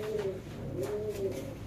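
A white Bombay pigeon held in the hand coos close up in a short series of soft, rolling calls.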